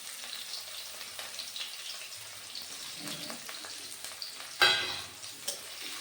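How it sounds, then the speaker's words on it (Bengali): Onions sizzling in hot oil with black cumin seeds in a pan, a steady close crackle with light stirring, then a sharper burst of sizzle near the end as they settle in. "তেলের মধ্যে দিয়ে দিলাম পেঁয়াজ।"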